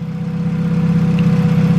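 A big-turbo Honda Civic EK hatch with a non-VTEC B18 engine idles steadily on a dyno, giving a loud, close, even low rumble throughout.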